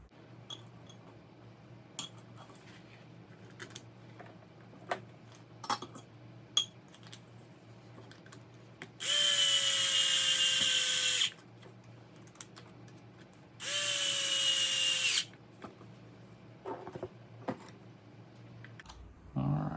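Screws being tightened on a Traxxas Slash LCG RC truck: scattered small clicks and ticks of a hand tool, broken by two long, loud bursts of a whirring power driver a few seconds apart, with no talking.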